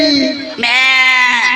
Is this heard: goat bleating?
yes